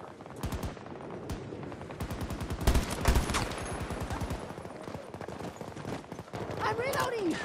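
Battlefield 2042 gunfire: several bursts of rapid automatic shots with short pauses between them, loud and close, over a noisy battlefield background and brief spoken callouts.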